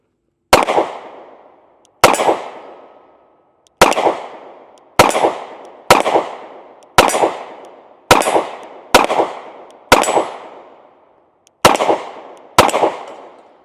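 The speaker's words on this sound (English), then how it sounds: "So let's go ahead and take a few shots with it." A Smith & Wesson Bodyguard 2.0 .380 pistol fires ten sharp, loud shots at an outdoor range, spaced roughly a second apart, each crack trailing off in a short echo.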